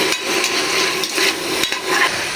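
Shallots sautéing in a pan for a Kerala-style roasted-coconut pork curry, with a steady close sizzle and continuous stirring scrapes throughout.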